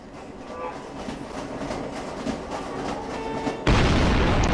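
A train in the Roblox Jailbreak game rumbles past with rhythmic rolling clatter and low booms, rising steadily before the sound abruptly jumps to a loud, dense roar near the end.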